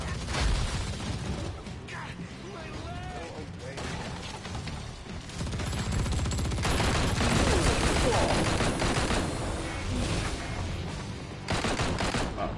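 Sustained gunfire in the action game Marvel Heroes Omega, a dense barrage of rapid shots and bursts running throughout, growing heavier partway, with game sounds mixed in and a voice talking over it.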